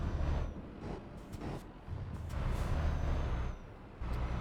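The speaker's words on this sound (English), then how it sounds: "Okay, parking brake," An air brake on a truck being set for parking in Euro Truck Simulator 2, giving a few soft bursts of hissing air over a low idling engine rumble, with no voices.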